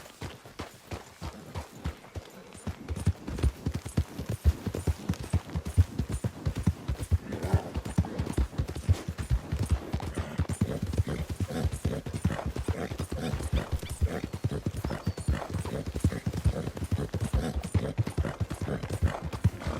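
Horse hooves gallop in a steady, rapid clip-clop in the Red Dead Redemption 2 video game, close and continuous, building in pace after a brief start.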